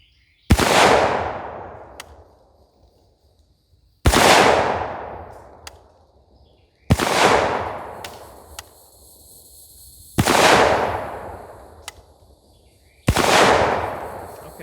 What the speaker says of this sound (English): So that's the first 5 shots through this thing.